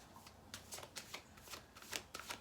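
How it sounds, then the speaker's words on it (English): Tarot cards are shuffled in a run of quick, crisp riffling bursts, close but soft, with no talking over them. "I'm going to shuffle this up."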